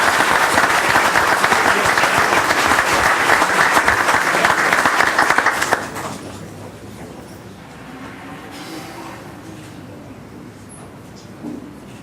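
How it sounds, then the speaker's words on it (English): Dense applause from a council meeting audience fills the room for about six seconds, then cuts off abruptly, leaving quiet room tone with faint stray sounds. "Round of applause for those gentlemen."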